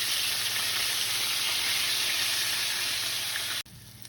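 Pieces of bear meat fry in hot oil with a steady, dense sizzle that holds at an even level throughout, then drops off abruptly near the end.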